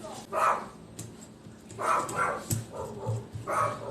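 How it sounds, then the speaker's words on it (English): A dog barks three times at a moderate distance, in evenly spaced bursts over a few seconds, under a faint background hum. "My dog's barking."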